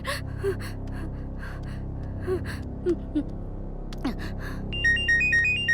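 An electronic phone ringtone starts near the end with a short repeating melodic pattern, coming after a few quiet gasps and breaths in an otherwise hushed room.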